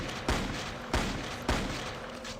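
In the video game Blood II: The Chosen, three evenly spaced gunshots boom about 0.6 seconds apart, each a sharp blast with a short decaying tail over a steady background hum.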